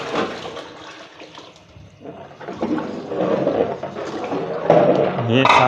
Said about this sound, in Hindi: ये हम इसके अंदर पानी ऐड करते हैं इसकी ज़रूरत के मुताबिक।